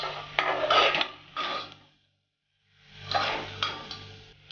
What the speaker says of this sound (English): Now I'm going to turn all these vegetables again